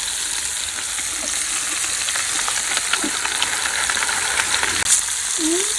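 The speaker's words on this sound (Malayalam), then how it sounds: "അപ്പൊ നമ്മൾ 3 പീസ് നമ്മൾ പൊരിച്ചെടുക്കും." Three chicken alfaham pieces fry in a small pan, a steady close sizzle and crackle with scattered spits and pops and a few light scrapes as the pieces shift.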